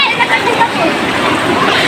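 A brief stretch of people splashing in river water, a continuous close wash of sloshing and spatter with voices mixed in.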